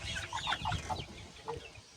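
Young Korean broiler chickens in a poultry house give a series of short, close clucks and chirps in quick irregular bursts, with a busy background of other birds and no talk.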